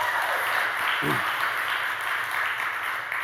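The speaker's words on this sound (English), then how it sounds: "I want to give the staff a round of applause" Steady round of applause from an audience at a workforce summit, honoring the F5 project staff on the project's seventh anniversary; dense, even clapping fills the whole stretch, with a brief low voice partway through.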